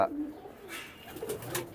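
Pigeons kept for flying in a loft coo softly, a few low murmuring calls in quick succession, faint and close with faint background noise.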